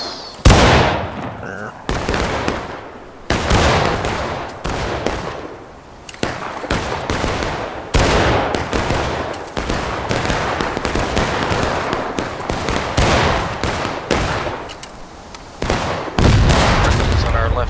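Rifle fire in a war video game set at a railroad cut, with dense, repeated close and distant shots cracking irregularly through the whole stretch, loud, while players talk intermittently over it.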